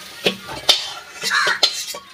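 Cooked mutton kosha scraped and poured from a metal kadai into a pressure cooker, with a few sharp metallic clinks and scrapes of utensil on pot, close and moderately loud.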